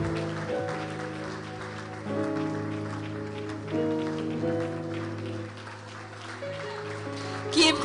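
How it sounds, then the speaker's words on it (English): Church audience claps continuously as pastors walk to the stage at a gospel event, a dense patter under sustained music chords, with a burst of louder claps right at the end. "You have to keep clapping until they get to the stage."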